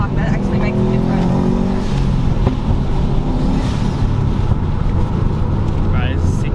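A Subaru WRX STI on a mountain touge run revs loudly after a downshift, its engine note rising and falling steadily inside the cabin, with people talking over the drone.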